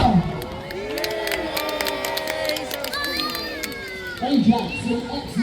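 Crowd of adults and children cheering and shouting beside the lake during the Peasholm Park naval battle re-enactment in Scarborough, a sustained mass of overlapping voices with a louder swell near the end.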